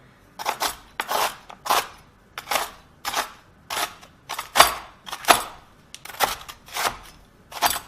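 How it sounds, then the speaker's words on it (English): A knife chops Oreo cookies crisply on a board in an uneven, steady rhythm, about fourteen sharp crunchy strikes, close and loud with short pauses between. "You will need to give this a rough chop"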